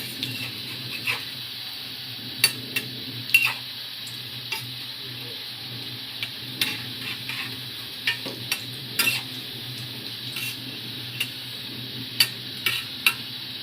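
Pakoras made without potato or onion fry in hot oil, giving a steady, even sizzle throughout with scattered light clicks and taps from utensils. No one speaks.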